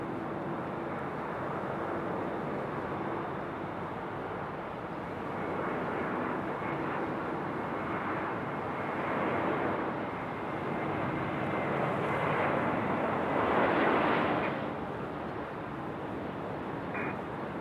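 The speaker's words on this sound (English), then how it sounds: "Got a Southwest speeding out to the end of the other runway over there" A Southwest airliner taxis out to the end of a runway at Raleigh-Durham International Airport, a distant, steady engine roar that slowly swells and eases over many seconds, with no talk.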